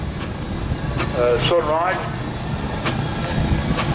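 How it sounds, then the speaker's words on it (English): A 1915 steam tractor engine at a steam and vintage rally in Lincolnshire hisses steadily and loudly close by, with a brief whistling chirp partway through and a single short word spoken over it. "This is a steam tractor."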